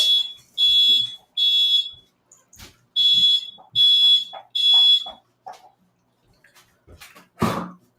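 A smoke alarm going off indoors, sounding loud shrill beeps in five repeated bursts of about half a second each, followed by faint rustling and a final low thump.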